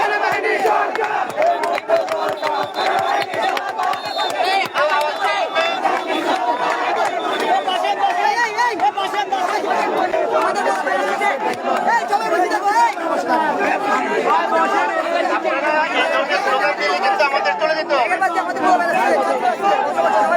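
Protest crowd chanting and shouting slogans in unison, a loud, continuous roar of many voices with rhythmic surges.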